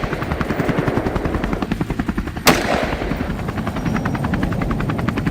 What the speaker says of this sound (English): The rest of the herd scattered in panic at the sound of gunfire